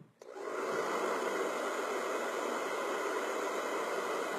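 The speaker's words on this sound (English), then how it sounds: "So what you do is you take your blow dryer," A blow dryer runs at close range while drying mascara, a steady loud rushing whoosh that starts with a short click and holds constant throughout, with no talking.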